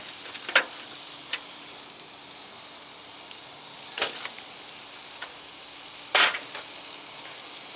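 Cheddar melting on smoked crab stuffed mushrooms on a grill, with a faint steady sizzle under sparse ticks and crackles, including a sharper pop near the end.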